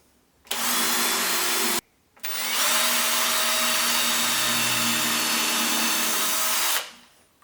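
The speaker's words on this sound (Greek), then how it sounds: "Πρώτα τρύπα πιλότος." A power drill bores a pilot hole for a wood screw in soft wood, giving a loud, close, steady whine in two runs: a short burst, a brief pause, then a longer sustained drilling that winds down.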